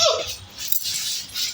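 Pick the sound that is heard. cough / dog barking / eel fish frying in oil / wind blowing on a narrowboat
dog barking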